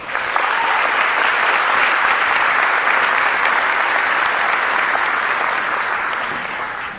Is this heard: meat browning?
no